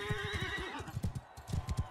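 A horse in the Mount and Blade Bannerlord video game whinnies, then its hooves clip-clop in quick, close, uneven beats.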